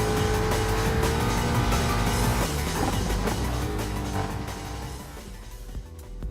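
Four-wheel-drive off-road race cars of over 500 horsepower, such as the Ford Focus, Subaru WRX, Lancer Evolution and Ford Mustang, roar in Gran Turismo Sport. A loud, steady engine drone with tonal revs fades slightly toward the end.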